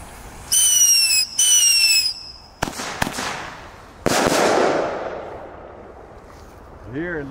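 Thunderking firecrackers going off, with rising whistles before sharp loud bangs and long rumbling echoes outdoors, several reports spread over a few seconds as a voice speaks between them.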